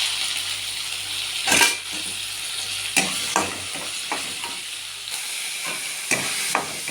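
Green chillies, ginger and onions frying in a pan for chicken biryani, a bright continuous sizzle up close with repeated clinking spatula stirs and scrapes against the metal.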